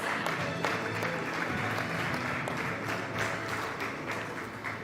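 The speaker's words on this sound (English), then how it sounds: "Ladies and gentlemen, another huge round of applause" A crowd at a Mumbai business awards event gives sustained applause, a dense, even roar of many hands clapping at moderate loudness throughout.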